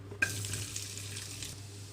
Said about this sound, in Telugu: ఇప్పుడు ఈ ఆయిల్లోనే నేను కట్ చేసి పెట్టుకున్న ఉల్లిపాయలు వేస్తున్నాను